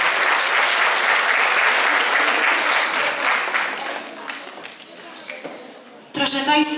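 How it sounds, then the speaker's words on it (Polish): Audience applause at a youth band performance during an arts ensemble showcase at a cultural centre in Knurów, loud and dense at first, then thinning and fading before a voice begins speaking at the end. "Duże brawa dla naszej wspaniałej młodzieży."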